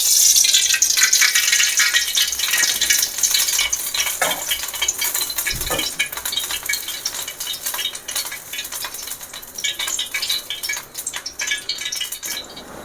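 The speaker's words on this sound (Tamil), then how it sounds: "சட்டி சூடாயிடுச்சு நம்ம இப்போ எண்ணெய் ஊற்றிக்கலாம்" Oil hits a hot pan and sizzles loudly, the bright crackle easing off over several seconds, with a few metallic rattles and clinks of a utensil.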